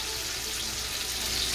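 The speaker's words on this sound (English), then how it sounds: "Let's get some of that pasta water in there" Pasta water poured into a pan for linguine with garlic and olive oil, a steady broadband rush and faint sizzle of water hitting hot oil, close and continuous with no talk.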